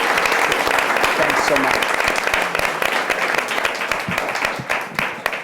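Sustained audience applause welcoming a speaker to the podium at an environmental dialogue event in New York City, loud dense clapping that fades slightly toward the end as someone speaks briefly over it.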